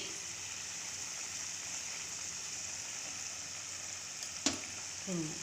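Ghee cauliflower curry cooks in a pan with a steady, even sizzle that holds throughout, then a single sharp clatter near the end and a short scrape just after.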